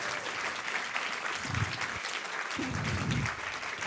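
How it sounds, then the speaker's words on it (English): Audience applause at an Andrew W.K. event, a steady wash of many hands clapping throughout, fairly distant and even, with a few faint voices mixed in. "Really, round of applause, guys"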